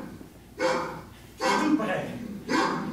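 A chained dog in a radio drama barks in three loud, close bursts spaced about a second apart, with a quieter stretch between them.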